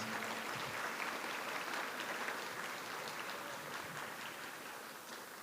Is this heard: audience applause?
yes